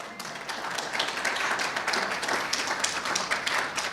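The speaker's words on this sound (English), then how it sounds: "Applause." Audience applause at a Jaycees award ceremony, many hands clapping in a dense, steady patter that fills the room for several seconds before cutting off.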